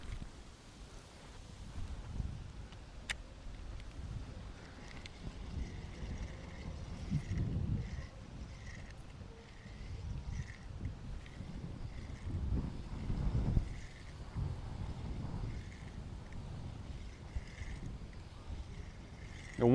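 Gusty wind buffets a small fishing boat on open water, a steady low rumble of microphone wind noise rising and falling throughout, with faint water sounds underneath and no talking.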